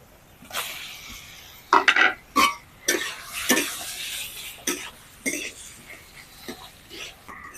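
Potatoes are tossed into fried spice masala in a pan, with repeated loud scraping and clattering stirs over a low sizzle, the strokes coming in uneven bursts close by.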